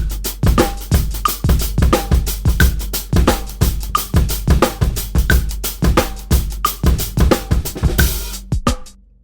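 Half-swung drum groove played back from a RhythmBot practice app, kick, snare and cymbal hits in a steady looping pattern that is loud and close for about eight seconds, then stops abruptly.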